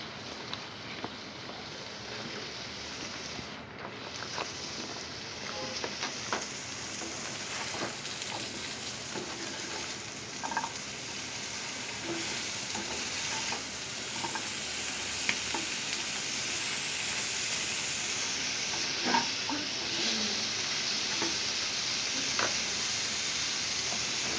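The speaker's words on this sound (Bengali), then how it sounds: "এখন আমি দিয়ে দিচ্ছি বেগুনটা।" Brinjal hits hot oil with salted hilsa and spices in a pan, giving a steady, fairly faint sizzle and frying hiss with occasional stirring clicks, heard alone without talk.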